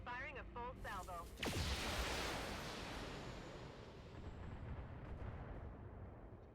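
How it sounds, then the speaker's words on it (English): A BattleTech mech unleashes a full weapons salvo: a sharp launch burst followed by a loud, rolling roar of fire that decays slowly over several seconds, with no talk over it. "Firing a full salvo."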